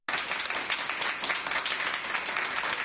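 Crowds across Türkiye applaud health workers from their balconies at 9 p.m., a dense, continuous roar of many hands clapping at a distance, steady and loud throughout.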